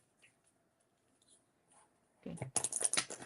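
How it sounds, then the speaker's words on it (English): After near silence and a brief spoken word, a deck of cards is shuffled close up, with a burst of crisp rapid riffling and flapping patter over the last second. "I'm shuffling."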